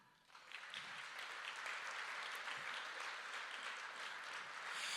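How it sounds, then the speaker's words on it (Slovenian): An audience at a company's 25th anniversary event breaks into applause, a dense, sustained clapping that rises quickly and continues loud and close for several seconds. "Tako da dajmo si zaploskati."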